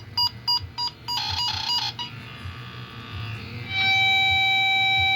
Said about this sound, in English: a beep signal you can do